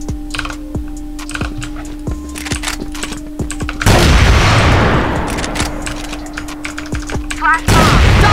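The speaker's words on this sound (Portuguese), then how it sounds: "Tiro normal e tiro varado." Rapid, loud bursts of video game gunfire with booming impacts, interspersed with sharp rhythmic clicks, the shots near and punchy.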